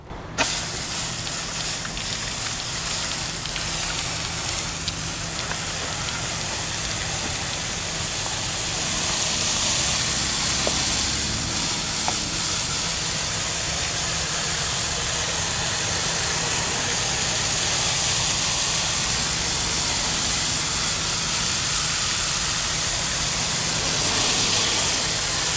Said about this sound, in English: I'm just gonna rinse this out with my hose now